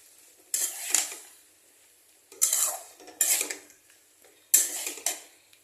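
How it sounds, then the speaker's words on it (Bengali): Jackfruit and potato are stirred in a pan, with short bursts of scraping and clinking utensil strokes in irregular clusters and quiet pauses between, close and fairly soft, with no voice. "ইঁচড় আর আলু দিয়ে এটার সঙ্গে ভালো করে নাড়িয়ে দেবো।"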